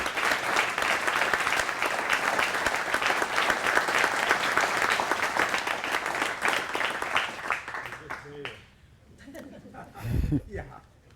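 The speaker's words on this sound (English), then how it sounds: "we can probably all echo that applause for all the veterans among us" A lecture audience on World War II applauds veterans in the room, a loud, sustained round of many hands that thins and fades near the end, followed by a few quieter handling sounds.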